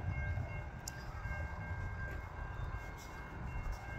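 A train rumbles past near a station, a loud, steady low roar of rolling rail cars with faint high tones above it and no voices.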